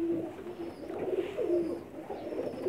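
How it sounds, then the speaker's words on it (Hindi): A pigeon coos in soft, low, rolling phrases, repeated a few times close by, with a faint background hum and no talking. "उस्ताद सखी से भट्टी साहब का कबूतर दिखा रहे हैं"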